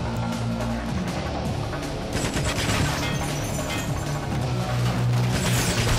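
Dense gunfire and crashing explosions in the video game GoldenEye Rogue Agent, a loud continuous barrage layered over game music and effects.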